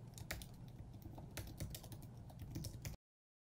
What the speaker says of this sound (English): just type it in this box.